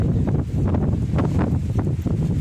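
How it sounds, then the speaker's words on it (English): Wind buffets the microphone outdoors in a garden, producing continuous low rumbling gusts that swell and fade without pause. "sorry about all the wind, you guys. Can't help that."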